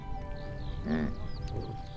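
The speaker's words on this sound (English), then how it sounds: "Yaks don't moo, they grunt." A yak in a high pasture lets out a single low, grunting call at close range. It is brief and harmonic, set against quiet outdoor background.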